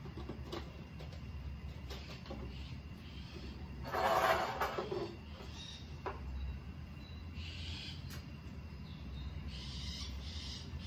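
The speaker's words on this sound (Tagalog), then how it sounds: "Mga ibon" Several birds call intermittently in the distance at dawn over a quiet, low background hum, with one louder burst partway through.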